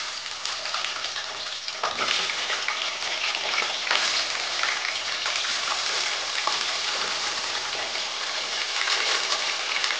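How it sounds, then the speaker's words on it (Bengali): Fish heads frying in hot oil, a steady dense sizzle and crackle that runs close and continuous throughout with no talking. "মাছের মাথাটা ভাজা হোক"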